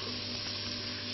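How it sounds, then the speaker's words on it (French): Thinly sliced white onions hit a pan of hot smoked bacon fat, giving a steady, close, even sizzle of frying with no talk. "Donc on va mettre nos oignons."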